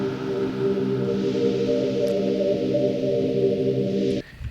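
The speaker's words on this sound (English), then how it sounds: "This pad here" A soloed synth pad from a sample pack swells as a dense, sustained chord of warm low tones with a hissy airy top layer, steady for about four seconds before cutting off abruptly.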